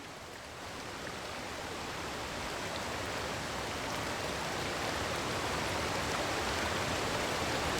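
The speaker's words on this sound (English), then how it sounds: "That's the sound of the waterfall." Steady rushing water from a waterfall, a constant hiss that swells gradually louder and stays even, with no voices.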